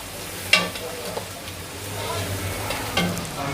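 Green chilies and cashews fry in hot oil, giving a soft continuous sizzle with a few sharp stirring clinks, fairly quiet and close.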